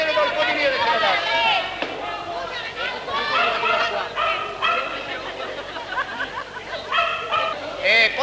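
A dog barks and yips excitedly and repeatedly during a rat-hunting contest, with a crowd chattering loudly all around.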